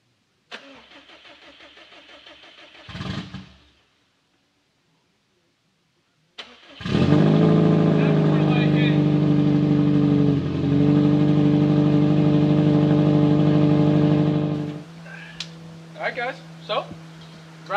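A Subaru WRX STI with an open downpipe cranks and fires at about six seconds, then roars loudly and steadily with revving swells for roughly eight seconds before dropping to a lumpy idle; brief mechanical noise and quiet talk come before the start.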